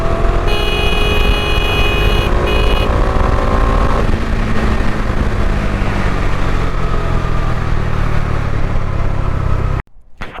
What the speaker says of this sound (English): Let me pull the bike, just feel the engine noise.